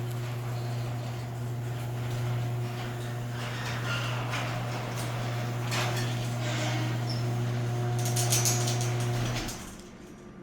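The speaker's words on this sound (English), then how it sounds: "just put the garage door down." A motorized garage door hums steadily as it lowers, with rattles and clanks along the track, ending in a thud and then quiet.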